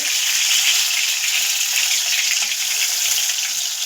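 Bombay duck fritters (bombil vade) frying in hot oil, a steady close hiss and crackle of sizzling that holds evenly throughout with no voices.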